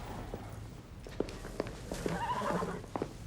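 A horse named Cobalt, a thoroughbred at a stable in Willow Creek, shuffles and steps with scattered hoof knocks, soft snorting and faint whinny-like sounds, fairly close, under quiet background noise.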